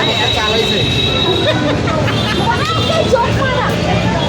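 A metro train rumbles at a station amid crowd chatter and announcements, with a steady mechanical hum and brief squeals throughout.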